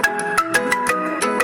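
A phone ringtone plays up close, a bright repeating electronic melody with rhythmic beats pulsing several times over a short moment, heard alone without voices.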